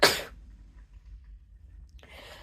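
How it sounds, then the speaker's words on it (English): A single sharp, close sneeze bursts out at the very start, then fades to quiet room tone before a brief rustle near the end. "I'm going to sneeze."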